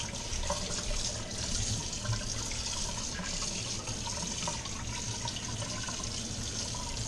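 A city ham, shank end, rinsed under a running kitchen tap, giving a steady, full rush of water splashing over the meat into the sink for the whole stretch.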